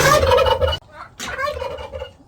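Loud Bourbon Red turkey gobbles close by, one rapid rattling burst, a brief pause, then a second gobbling call trailing off.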